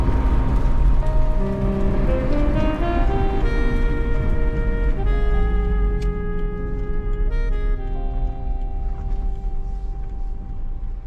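Rain falls while a car is driven, a dense, steady wash of rain noise with low road rumble, heard under sustained musical tones.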